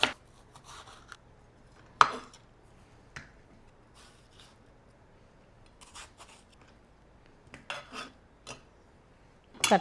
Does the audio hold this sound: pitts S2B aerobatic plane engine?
no